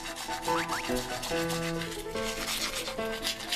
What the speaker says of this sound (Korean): 이게 양치질 소리라고요?